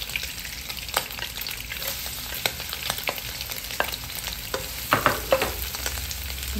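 Garlic and onion sauté in a pan for Kapampangan pork bistek. A steady, close sizzle carries scattered clicks and scrapes from stirring, with no talking.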